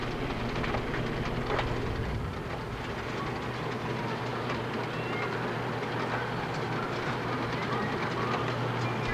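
Riding aboard a train brings a steady, close rumble of rolling wheels with faint rhythmic clatter from the rails, continuous throughout and without spoken voices.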